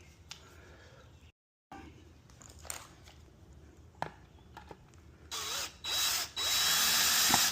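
Power driver sinking screws into pocket holes in pallet wood for a garden bed: light handling clatter, then three loud whirring bursts close by, each rising in pitch, the last one longest.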